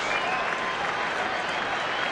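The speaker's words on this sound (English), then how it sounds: "I don't think we've heard a roar like this for a Dodger game maybe since Sandy Koufax" Packed stadium crowd at a Dodgers baseball game roaring and cheering loudly and continuously, a dense wash of noise with faint voices mixed in.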